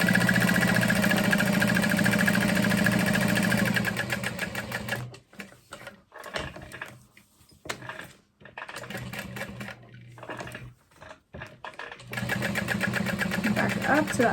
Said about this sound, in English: We're going to sew all the way down this side,